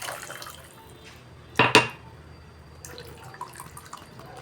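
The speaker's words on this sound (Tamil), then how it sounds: "தேங்காய் பாலை ஊற்றி நல்லா வடிகட்டி இதில் ஊற்றிட்டேன்" Coconut milk pours through a kitchen strainer for goat trotter soup, giving a short, splashy burst of liquid over faint background noise, followed by a few soft drips and trickles.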